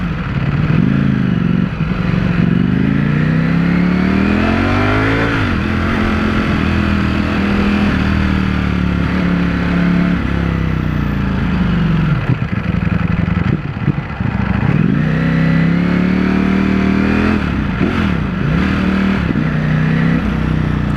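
A Ducati Panigale V4S motorcycle is ridden hard for a long stretch. The engine drones loud and close, its pitch rising with acceleration and dipping sharply several times as the quickshifter changes gear.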